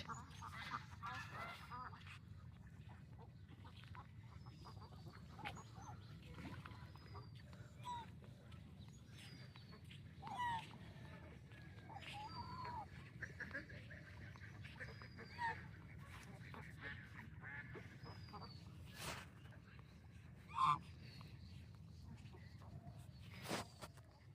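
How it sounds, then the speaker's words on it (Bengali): A flock of ducks and ducklings quacks faintly at a distance in scattered, overlapping calls against a low outdoor rumble, with occasional voices nearby. "আজকে হাঁসের অভাব নাই সব হাঁস এক জায়গা বাচ্চা হাঁস"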